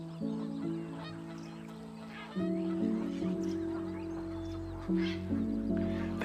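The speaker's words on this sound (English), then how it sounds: "These are Canada geese." Canada geese on a farm with their goslings honk repeatedly in loud, nasal, overlapping calls at close range, with brief breaks and outdoor ambience.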